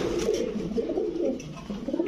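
A Belgian-bloodline racing pigeon gives soft, low, repeated coos, close but quiet, with no talking.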